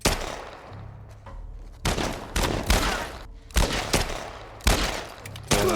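Repeated bursts of gunfire from The Last of Us Part I, loud sharp volleys at irregular intervals with a rumbling background between shots.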